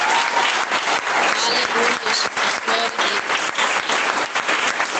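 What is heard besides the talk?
church congregation applauding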